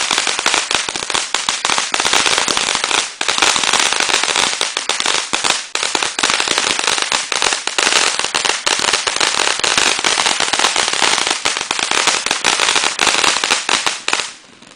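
Birthday fireworks and firecrackers going off in a dense, continuous barrage of sharp cracks and pops for about fifteen seconds, loud and close, ending in a brief quieter tail.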